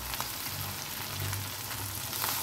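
Onion and tomato fry in a pan with sugar and Kashmiri red chili powder added, a steady close sizzle with faint crackling throughout and no talking, for a rohu fish kalia with ground cumin.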